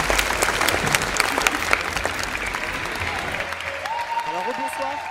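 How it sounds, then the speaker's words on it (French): Loud, dense applause from an audience at the finale of a modelling contest with no height requirement fills the room, then thins out as a sustained tone and a few voice-like sounds rise over the tail. "on les applaudit très fort"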